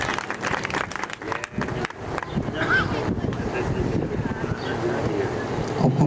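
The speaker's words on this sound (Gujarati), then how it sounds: "તાળીઓથી વધાવીએ આપણે" An audience claps to welcome the saint Raghavanand Bapu at a temple idol-consecration festival. Dense applause runs steadily for about six seconds, with a few voices mixed in.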